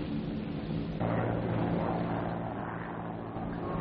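A supply aircraft passes overhead troops advancing into Tibet, its steady engine drone filling the air continuously and fairly loud, with no voices.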